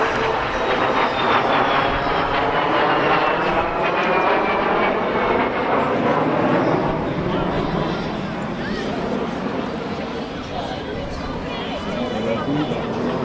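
A vintage jet, a de Havilland Vampire FB.52 flying with a Strikemaster at the Clacton Airshow, roars past in a loud sustained sweep with a falling whine as it passes, while a commentator talks over it.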